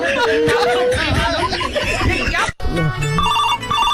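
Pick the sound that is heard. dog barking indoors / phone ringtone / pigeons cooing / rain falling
phone ringtone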